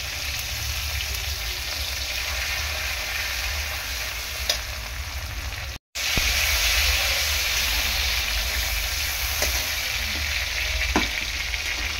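Ginger paste frying in a pan while making a vegetarian ghugni without onion or garlic, a loud continuous sizzle and hiss with occasional stirring clicks, broken once by a short pause before the sizzling resumes.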